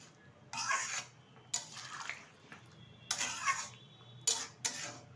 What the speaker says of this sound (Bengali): দিয়ে দিচ্ছি ভেজে রাখা ভেটকি মাছ, আবারও একটু নাড়িয়ে দিচ্ছি।